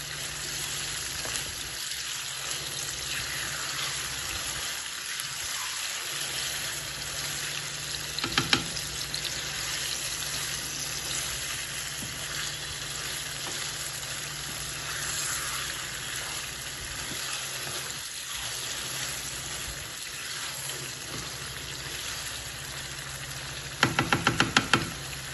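Beef stroganoff made with liver simmering in a pot, with a continuous even bubbling hiss for the whole stretch and a couple of brief clattering knocks, no voices.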